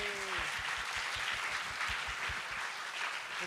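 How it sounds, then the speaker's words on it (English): A demo-day audience at a public-good hackathon applauds the FreestuffSG team, steady dense clapping from a crowd with a brief voice at the very start. "Round of applause for the FreestuffSG team."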